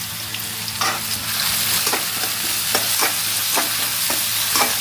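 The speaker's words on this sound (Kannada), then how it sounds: "ಇವಾಗ ಇದೊಂಚೂರು ಒಗ್ಗರಣೆ ಮಾಡಬೇಕು." Spices tempering in hot oil for a green gram and dill leaf stir-fry, sizzling in a loud steady hiss with a spoon tapping and scraping the pan at intervals, close up.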